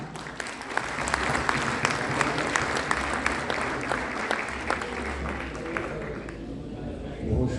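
Audience at an international mushaira applauding the guest poet AM Turaz, dense steady clapping from a large crowd that holds for several seconds before thinning out at the end.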